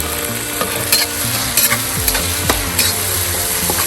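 Garlic and tomatoes fry in oil in a pot, with a close, steady sizzle and bursts of crackling, plus a few scrapes and clinks of a utensil stirring.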